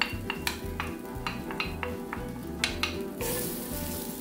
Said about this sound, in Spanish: Lo siguiente será agregar la cebolla que picamos.